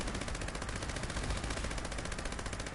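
Rapid continuous automatic gunfire from an explosive weapon in Fallout 76 on PS5, a dense loud rattling stream of shots with no pauses and no talking.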